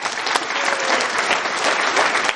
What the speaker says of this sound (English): please big applause for the conference